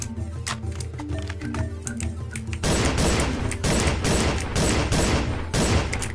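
Rapid shotgun blasts ring out in a first-person shooter game, with a lighter volley of sharp shots first, then a denser, louder stretch of repeated firing as more shells are pumped into an enemy.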